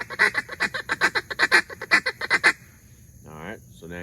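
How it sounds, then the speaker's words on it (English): Rapid series of about a dozen loud, rhythmic honking duck-call notes sounded as a feed call toward mallards in flooded timber on a windy, cloudy morning, trailing off into a brief softer call at the end. "I like to give them some feed call."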